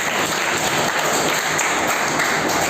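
A physics class taught through a chess game claps for a student, a bright, steady patter of hands from a classroom group, loud and close, continuing evenly without speech.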